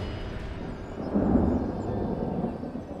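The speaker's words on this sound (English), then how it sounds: "Oh, a bit of thunder." Low thunder rumbles over the Bay of Islands, a distant roll that swells near the middle and slowly fades beneath a steady background drone.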